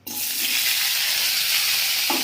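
Green chillies dropped into hot oil in a pan, a loud sizzle that bursts up at once and holds steady and close for the whole stretch.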